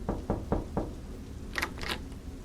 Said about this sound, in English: Then, a knock.